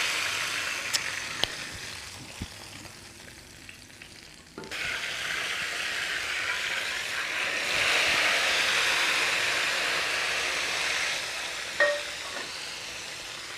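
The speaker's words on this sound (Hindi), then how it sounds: "और इसके ऊपर हम तड़का डाल देंगे।" Hot tadka tempering is poured over kadhi pakora. After a few seconds of near quiet, a loud, dense sizzle bursts in suddenly and keeps crackling steadily up close, easing off slightly near the end.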